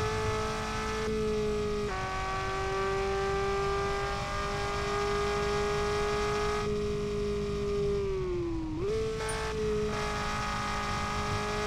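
A car engine in the Revhead racing game held near red line in fourth gear on an oval track, a steady high whine that stays nearly constant, dips briefly with a shift, then climbs back; loud and continuous, no talk.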